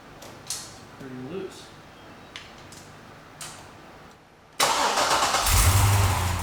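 A Chevrolet Corvette C6 Z06 cranks and catches abruptly after a few scattered clicks and ticks, then settles into a loud, close, steady rumbling idle.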